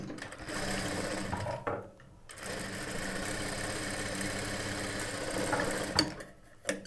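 A sewing machine stitches darts on a blouse in steady continuous runs, with a short pause near the middle and a brief stop toward the end, close and fairly loud with no talk.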